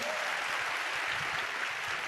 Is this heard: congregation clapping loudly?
yes